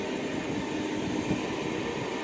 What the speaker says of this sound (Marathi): बघा ट्रेन चालली आहे.